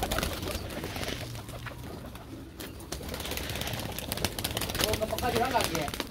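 Pet pigeons coo in soft, repeated low calls at close range, mixed with voices and general household background noise throughout.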